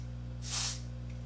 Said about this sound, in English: So I'm going to spray the brush